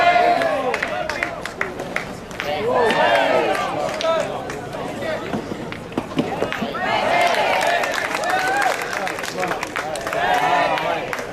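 A crowd at a 1000-boules competition in Canada, 2011, claps in scattered bursts, fairly close, under continuous talk from an announcer and shouts from onlookers.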